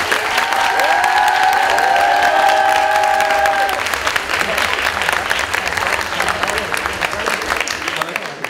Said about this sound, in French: je veuillais applaudir fortement Iman